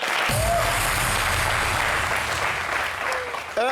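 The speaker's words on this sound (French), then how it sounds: "On applaudit pour tous mes DJ." Loud, dense audience applause for the DJs on a French entertainment show, steady for the whole stretch, with a few voices and whoops mixed into the clapping.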